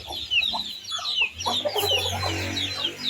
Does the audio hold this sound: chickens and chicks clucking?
yes